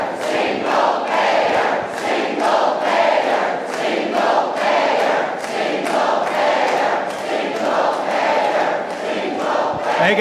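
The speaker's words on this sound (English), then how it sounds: "The crowd is shouting single payer" A large, frustrated town hall crowd in Nevada County chants a two-word slogan in unison, producing loud, rhythmic shouting that repeats steadily and continuously.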